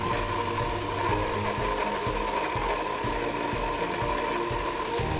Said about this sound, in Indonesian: Kemudian haluskan dengan blender.